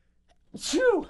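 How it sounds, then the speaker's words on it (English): One sharp human sneeze, close and fairly loud, begins with a quick inhale and ends in a short explosive burst. "I'm gonna sneeze."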